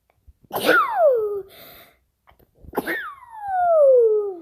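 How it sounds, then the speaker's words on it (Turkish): Two loud, close sneezes, each a sharp burst trailing into a falling vocal tone, separated by a short silence. "Hapşırdım."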